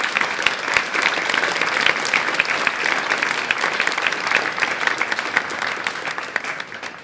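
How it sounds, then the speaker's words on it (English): Conference audience applauding at a community programming conference opening, dense sustained clapping from a large crowd that stays loud throughout and tapers slightly near the end. "So please clap your hands for the community"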